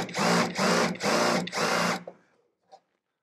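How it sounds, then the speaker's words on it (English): A power drill whirs in four short bursts, cutting a countersink for a rivet in fabricated metal on a custom 1968 Volkswagen, then spins down into quiet with a faint click at the end. "I'm gonna put a little countersink on this."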